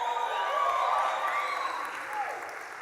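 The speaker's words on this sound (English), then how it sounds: "I'll wait till the applause fully stops, actually." Audience applause at a church leadership talk, a steady wash of clapping that holds evenly and then eases off toward the end, with no one speaking over it.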